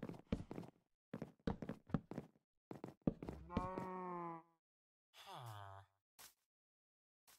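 Minecraft cows on a skyblock farm moo in short, close bursts with pauses between calls, a few distinct lowing sounds over quiet shuffling.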